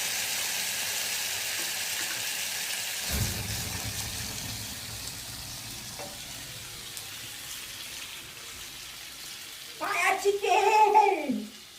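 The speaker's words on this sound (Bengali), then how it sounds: "এবার আমি মেইন জিনিসটা যে দেবো সেটা দেবো রাম।" Rum poured into a hot pan of fire chicken hits with a sudden sizzle that settles into a steady frying hiss, followed by a brief louder burst of bubbling near the end.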